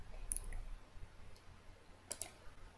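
Computer mouse clicks in dental framework design software, two faint, sharp clicks about two seconds apart over a quiet room hum.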